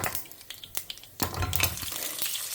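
Mustard seeds and urad dal frying in hot oil, a close, bright sizzle with scattered popping crackles that grows denser and louder halfway through.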